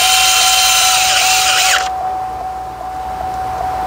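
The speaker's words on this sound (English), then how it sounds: "Don't over torque them if you've got the big DeWalt drill." A big DeWalt drill drives 7 mm screws into the instrument cluster of a 2007–2013 GMC Yukon, Tahoe or Suburban. Its loud, close whir runs steadily for about two seconds and then stops, leaving a low background hum.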